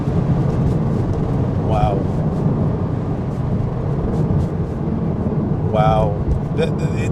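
A manual Porsche Cayman 987.2 pulls hard in third gear, its engine a steady loud roar throughout, while a man exclaims over it twice.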